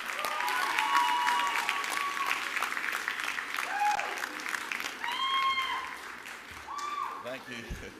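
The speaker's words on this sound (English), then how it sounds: "give them a round of applause for being part of your incredible journey" At a West Kentucky community college commencement, graduates applaud their families in a loud, sustained round of clapping. A voice speaks over the applause, which thins out toward the end.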